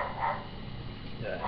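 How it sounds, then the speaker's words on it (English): A dog barks at lawn mowers, two bursts of muffled barking at the start and end of the clip, set fairly far back in a quiet room with faint background noise. "because there are mowers and the dog does not like the mowers"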